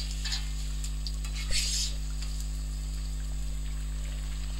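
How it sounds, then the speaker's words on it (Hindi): Chicken makhni karahi being stirred and fried over a high flame, with a soft steady sizzle, a brief scraping clatter of the spoon, and a constant low hum beneath. "अब हम इसको भून लेंगे हाई फ्लेम पे ताकि इसका पानी खुश्क हो जाए"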